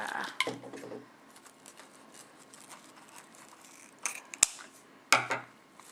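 Scissors snip through ribbon while a handmade gift bow is being made, two or three sharp crisp cuts near the end after quiet handling rustles, close and clear with no talking.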